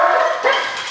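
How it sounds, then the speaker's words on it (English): A protection dog barks in a short, loud burst while held beside its handler during bite work training, with no talk over the sound. "He holds next to Sue barking"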